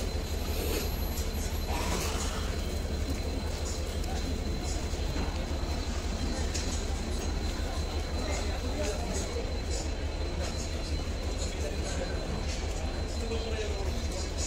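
Crowded passenger train in motion, with a constant loud rumble of wheels and carriage noise and faint squeal and clatter, steady throughout with a murmur of crowd voices.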